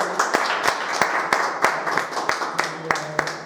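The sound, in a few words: audience applause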